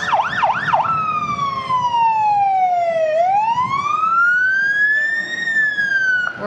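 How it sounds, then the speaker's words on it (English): A close, loud fire truck siren at a town parade yelps briefly, then slides into a long, slow wail that falls and rises, with no voices. "Plenty loud with their sirens and horns."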